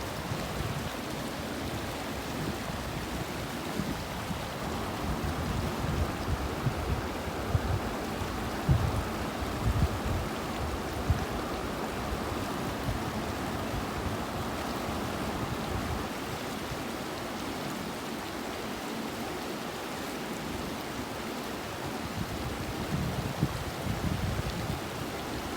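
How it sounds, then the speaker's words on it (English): Mountain river rapids in the Wind River Range near Titcomb Basin rush steadily as a continuous, fairly loud broadband roar of flowing water, unchanging throughout, with no voices. "It's a little more mellow down here, but still have a few sections of rapids"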